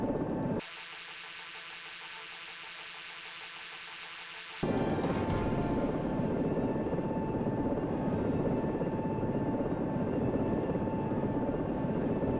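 A video game helicopter sets down and spools down its rotors. A steady turbine whine with rotor thrum drops in pitch abruptly, then gives way to a lower, continuous engine drone that holds at constant level.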